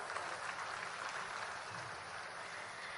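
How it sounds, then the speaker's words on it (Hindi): Faint, distant applause welcomes Madhya Pradesh Chief Minister Dr. Mohan Yadav at the opening of a new water park in Dhanpuri, Shahdol district, a soft, even wash of clapping that continues without a break. "मैं चाहूंगी आप सभी लोग जोरदार तालियों के साथ उनका स्वागत,"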